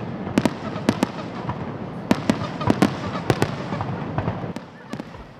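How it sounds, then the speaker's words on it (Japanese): Fireworks launched over Sendai during the Tanabata festival's eve celebration, with about a dozen sharp bursts and crackles popping at irregular intervals over a steady crowd murmur. "午後7時半から1万6000発の花火が次々と打ち上げられる"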